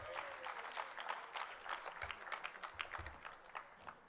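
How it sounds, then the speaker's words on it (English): Audience applause at a business forum, an indoor crowd clapping steadily with irregular individual claps, moderately distant and fairly quiet. "Round of applause"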